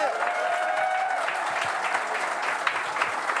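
A studio audience applauds the hosts of a French talk show, an even, sustained wash of clapping with a held tone and faint voices beneath.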